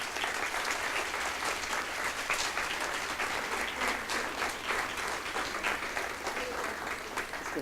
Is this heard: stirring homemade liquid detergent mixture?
no